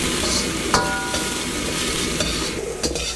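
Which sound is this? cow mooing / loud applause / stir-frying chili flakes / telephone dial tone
stir-frying chili flakes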